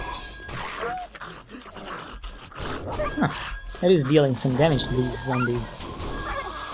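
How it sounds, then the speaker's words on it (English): In a zombie survival video game, a wolf lets out a series of rising and falling yelps and howls amid combat noise, heard under someone talking. "I think I hear a wolf outside."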